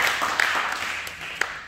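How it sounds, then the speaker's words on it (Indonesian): Broadband applause from a church congregation, a dense crackle of many hands clapping with a few sharper individual claps standing out, short and fairly close, with no talking over it. "Beri tepuk tangan dulu yang meriah buat kita."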